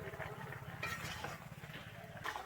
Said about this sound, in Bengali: আমি দিয়ে কিন্তু খুব ভালোভাবে আবারও মিশিয়ে নেবো